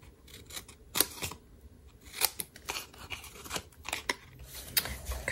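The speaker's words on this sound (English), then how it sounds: "down here we're going to trim or cut and then angle cut these" Scissors snip through paper tags in a quick series of sharp, close cuts, each crisp click spaced irregularly as the blades trim and angle-cut the edges.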